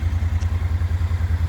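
Kymco CV3 575 scooter engine idling steadily up close, a low rhythmic throb with a faint mechanical clatter, no talking.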